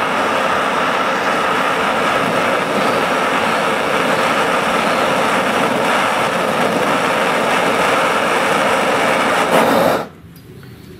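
Gas torch roaring as it heats a fire-powered toy car, a loud, steady, close rushing hiss that cuts off abruptly near the end, leaving only quiet background, with no talking.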